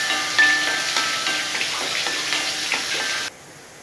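Adamant creeper, pirandai, sautés in a pan with a close, steady sizzle and crackle, broken by stirring scrapes, before the sound cuts off abruptly near the end.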